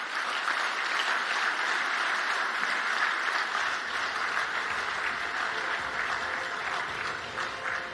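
Sustained applause from a large conference audience at the Afreximbank Annual Meetings, a dense continuous wash of clapping that holds evenly throughout with no talk over it.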